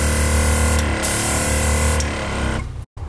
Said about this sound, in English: So the compressor is actually pretty quiet.